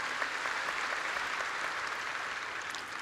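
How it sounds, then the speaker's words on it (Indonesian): A large church congregation claps steadily at a distance, a soft, even patter of applause without speech. "Kita berikan tepuk tangan buat Tuhan."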